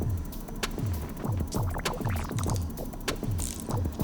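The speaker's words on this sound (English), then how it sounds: "take your trusty torque wrench from before and tighten each of those 4 bolts up to 5 Newton meters" A torque wrench tightens the stem bolts on a Dolan ADX titanium rim-brake road bike, giving a rapid run of sharp ratcheting clicks in short bursts, close and clear.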